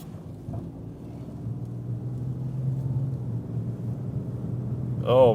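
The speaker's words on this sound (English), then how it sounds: "This thing needs bearings. The front bearings are completely shot on this truck." Worn-out front wheel bearings on a Ford Ranger pickup while driving give a steady low droning hum that swells slowly over several seconds, with road and engine rumble under it and a brief higher whine near the end.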